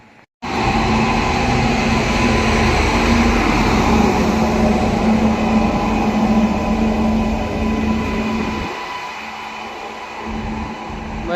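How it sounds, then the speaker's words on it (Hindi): A special passenger train on the Supaul–Delhi run pulling into platform 2, a loud, steady rumble with a low mechanical hum that eases slightly toward the end. "वही ट्रेन लग चुकी है अपनी प्लेटफॉर्म नंबर 2 पे"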